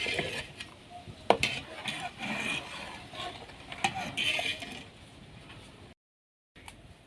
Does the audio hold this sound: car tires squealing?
no